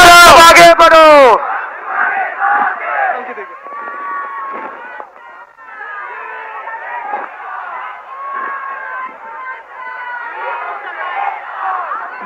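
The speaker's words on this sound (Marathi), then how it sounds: "मला वाटतं आजची ही तुफान गर्दी" A huge crowd of Mumbaikars gathered at a political rally in Mumbai makes a dense, continuous roar of shouting and chatter. It follows a brief loud burst of amplified voice at the start and holds steady through the rest.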